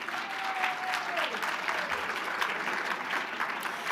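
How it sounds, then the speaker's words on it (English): Guests applaud at a fundraising dinner, a steady, dense wash of clapping from a large room that holds level throughout, with a brief tone gliding down near the start. "Big round of applause for them as well."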